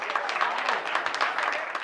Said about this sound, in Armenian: Բոլորի բարձր ծափահարությունները խնդրում եմ։